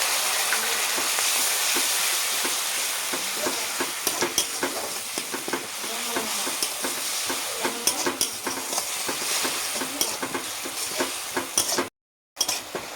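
Grated tomato with spices and curry leaves sizzles and spits in a hot pan, a steady loud frying hiss broken by frequent stirring clicks, briefly cutting out near the end.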